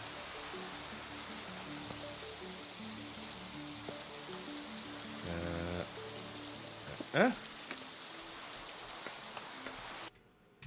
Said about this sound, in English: It doesn't help that it's raining right now.